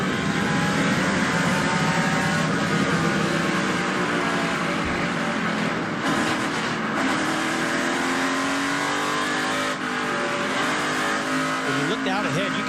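NASCAR race car at Bristol heard from onboard, its engine roaring loud and steady with shifting revs and tire noise, a commentator talking over it.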